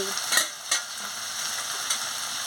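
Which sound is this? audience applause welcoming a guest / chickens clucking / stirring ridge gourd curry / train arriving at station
stirring ridge gourd curry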